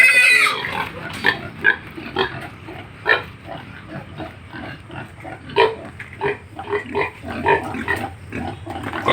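Fattener pigs on a farm in Occidental Mindoro grunt and squeal repeatedly while being caught. The loud, close squeals rise and fall in irregular bursts over constant background noise.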